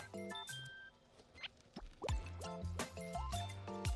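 Water drips and trickles close by while pothos plants are watered, irregular plops and small splashes with a faint clink, fairly quiet and without talk.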